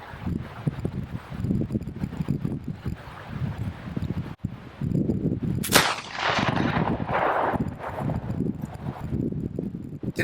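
Single shot from an 1800 Pattern Baker Rifle at an outdoor range, a sharp loud crack with a rumbling tail, set against steady wind and background rustle.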